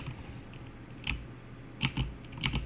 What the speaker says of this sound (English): the typing is so loud. I got the microphone right next to the keyboard, and it's a mechanical keyboard with the loudest switches in the world